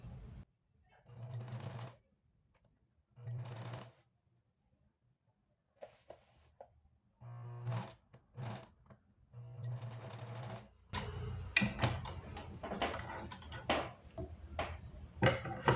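A sewing machine stitches the back seam of a dress in short separate bursts with pauses between, then runs in faster, louder clattering runs near the end, close up and mostly alone.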